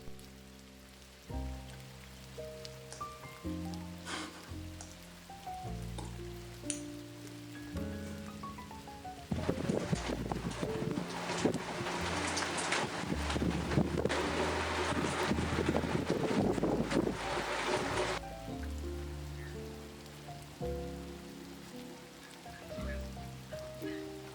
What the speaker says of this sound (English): It was so comforting to listen to the rain while slowly crafting those cozy charms.